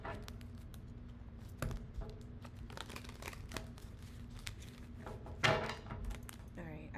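Tarot cards shuffled by hand during a live reading, a run of soft riffling, papery crinkles and taps with one louder flurry near the end, over a low steady hum and faint background voices.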